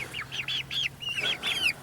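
Backyard chickens give a rapid series of close, high-pitched clucks and chirps in short bursts, with no talking.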